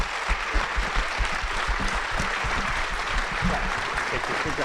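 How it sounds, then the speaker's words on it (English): An audience applauds debate candidates at a special convention, a steady wash of many hands clapping that holds at an even level for several seconds, with faint voices mixed in. "Please join me in applauding all of these wonderful candidates"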